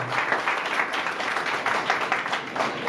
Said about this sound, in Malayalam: അദ്ദേഹത്തിന് നിറഞ്ഞ കൈയടി പോലെ.